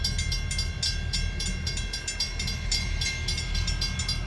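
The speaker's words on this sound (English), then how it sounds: "Wonder how long that train actually is." Freight train rolling past steadily and close, including ELS 501, an SD40-2 locomotive losing water, with a continuous rumble and rhythmic high clanking from the cars, no voices.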